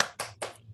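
Children in a classroom do a rhythmic spirit clap, tepuk semangat: three sharp bursts of clapping spaced evenly, fairly faint, with a low steady hum underneath.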